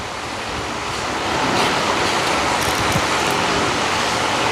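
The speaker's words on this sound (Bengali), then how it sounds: "ডালটাও সিটি পড়ছে আরও দুইটা সিটি পড়বো" A pressure cooker whistles while cooking dal in a home kitchen. The whistle is a loud, continuous rushing hiss of venting steam that swells after the first second and then holds steady.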